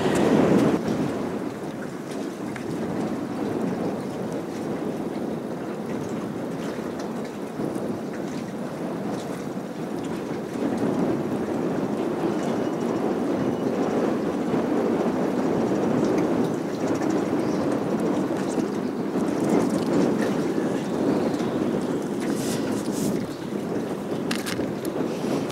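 Strong wind buffets the microphone while someone fishes for whiting from a boat in Australia, making a continuous rushing roar over lapping water that swells and eases without a break.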